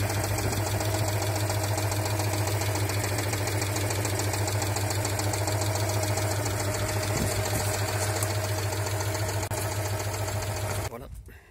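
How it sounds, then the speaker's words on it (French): A small air-cooled two-cylinder engine in a 1982 Citroën 2CV Charleston runs steadily at close range, a loud continuous hum with a fast mechanical clatter, cutting off abruptly near the end. "Beaucoup de place dans le capot moteur, mais c'est un petit moteur aussi."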